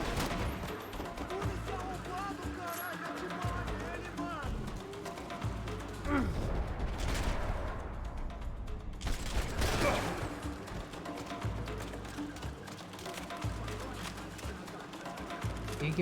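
AK-47 fire crackles in Max Payne 3 as dense, continuous shooting, partly masked by loud overlapping voices and game noise.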